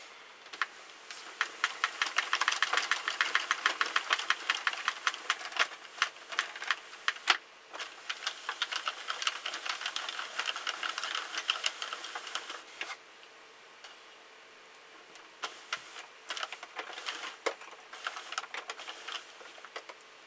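A Sentro knitting machine cranked through a full row with no yarn, giving a steady rapid clatter of plastic needles ticking and clicking, continuous for most of the stretch with a brief lull near the middle.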